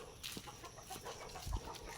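Chickens cluck softly and intermittently at close range, with scattered short calls over quiet outdoor background.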